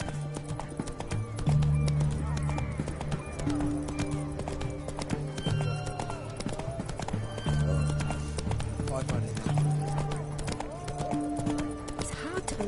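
A horse gallops in The Witcher 3, with rapid rhythmic hoofbeats under a constant music score and occasional voices, the galloping fairly close and steady throughout.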